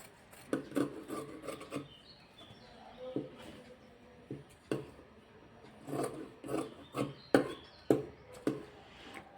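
Scissors snipping through blouse fabric while cutting out a round neckline, a series of short, close rasping cuts in irregular bursts with quiet pauses between them.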